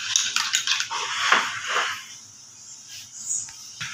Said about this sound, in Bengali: খুব ভালোভাবে দইটাকে আমাদের ফেটিয়ে নিতে হবে।